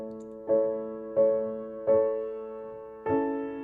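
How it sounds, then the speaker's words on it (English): Piano plays Burgmüller's Ave Maria from the 25 pieces in strict time with no rubato, four soft, evenly spaced chords struck and held, close and quiet, with no talking. "So this is the Ave Maria from the Bergmuller 25 pieces"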